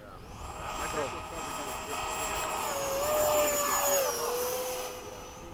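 FMS 80mm Hawk RC model jet flying a touch-and-go at a fun fly, a steady high turbine whine that shifts pitch as it passes, moderately distant, with people talking nearby.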